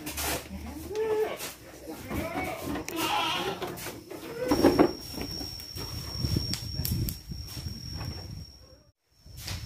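Goats inside a goat pen used for housing and breeding stock on a farm, giving a few scattered bleats over ongoing people talking nearby at moderate level.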